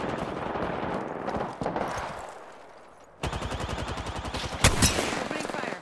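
Automatic weapon fire in Apex Legends: dense, rapid bursts of shots, with a rougher stretch of combat noise first and then close, loud, rhythmic rattling from the midpoint on.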